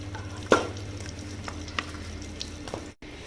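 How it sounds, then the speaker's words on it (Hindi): Jaggery stirred continuously in hot ghee, with a soft, steady sizzle broken by a few sharp scrapes and clinks of the spoon against the pan. "घी में डालने के बाद गुड़ को हमें इसे लगातार चलाना है"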